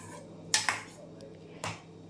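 Prawns frying in masala in a home kitchen pan, where a spoon stirs with a few sharp metallic scrapes and clanks over a low background hiss, with no talking.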